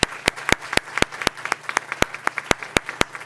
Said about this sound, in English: I'd like to give you a round of applause for your service.